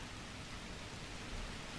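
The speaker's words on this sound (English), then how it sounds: "Yeah, so it rains over here." Steady soft rainfall in The Universim, a god-game world, an even broadband hiss that holds without a break, faint and fairly distant, with no voices over it.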